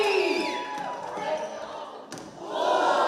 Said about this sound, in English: 3, 2, 1, give me a cheer!